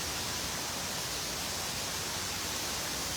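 Heavy rain pouring down as a dense, continuous hiss that fills the whole clip at steady loudness, with no voices or gaps.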